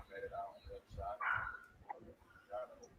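A dog barks repeatedly in the background, faint and distant, under steady talk from people.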